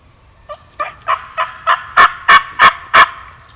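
A wild turkey gobbles in a rapid rattling series of about eight notes that build from soft to loud, with no talk over it.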